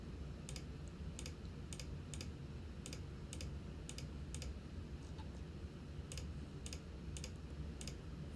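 Mouse clicks in molecular design software while stepping through amino acid options one by one, sharp quiet clicks in an irregular series over a steady low background hum, no talking.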